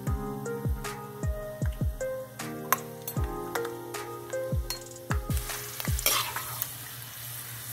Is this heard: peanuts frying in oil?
yes